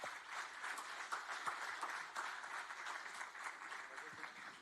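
Audience applause at a pitch competition grand final, a broad, even spread of many hands clapping at a steady moderate level for the whole stretch, with no voices standing out.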